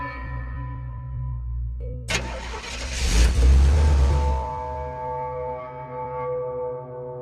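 An animated car's engine catches after being pushed, a sudden burst of cranking and revving that swells loudly, then settles into a steady running hum over a background music drone.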